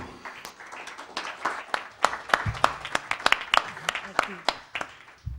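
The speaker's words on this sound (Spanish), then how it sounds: "antes de que comience le demos un aplauso, ¿les parece?" A small audience at a book presentation claps for a few seconds, with sharp distinct individual claps standing out close by rather than a dense roar.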